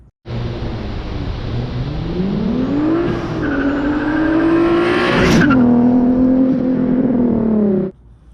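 A car makes an acceleration pull on a dead-end road, its engine note climbing steadily through the revs, easing briefly, then pulling hard again with a sharp spike near the top before holding. It is loud and close throughout, with no talking.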